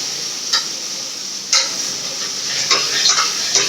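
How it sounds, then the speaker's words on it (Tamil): Tomatoes sautéing in a pan for a Tamil-style curry, a steady close sizzle with a few scattered ticks and scrapes of stirring on top. "தக்காளி போட்டு வதங்க"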